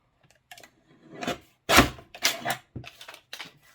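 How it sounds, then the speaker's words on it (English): A paper card panel is cut off a sheet with a handful of short, close, crisp rasping snips and slices. The strokes come in quick, uneven bursts with near silence between them. "So I'm going to cut this little panel off now."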